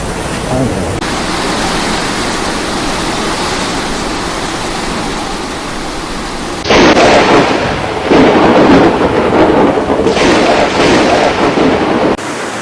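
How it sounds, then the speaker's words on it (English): Heavy rain pours steadily during a thunderstorm in Hebei Province, China, amid flash flooding. It makes a dense, loud roar that continues throughout, with a harsher surge in the second half. "Relentless rain slammed into Hebei Province this week, unleashing flash floods"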